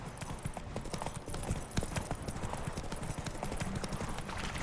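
Hooves of the horse Roach in the video game The Witcher 3 beat out a steady, rhythmic clip-clop at a walking pace. The clicks are close and fairly quiet over a soft ambient game background, with no speech.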